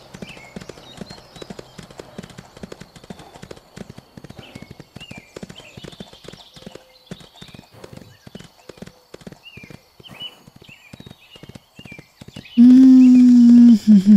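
In the video game Ostwind Remastered, a horse's hooves clip-clop at a steady walking rhythm along a path, loud and close, while birds chirp faintly, before a loud whinny near the end.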